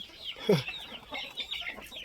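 Inbred white-grey chicks of a Thai game fowl line give one short, fairly loud cluck early on, followed by softer scattered chirps in the background.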